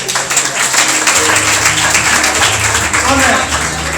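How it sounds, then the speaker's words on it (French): A congregation applauds during a church service, continuous dense clapping and crowd noise with a voice speaking over it. "Alors, acclamez le Seigneur Jésus."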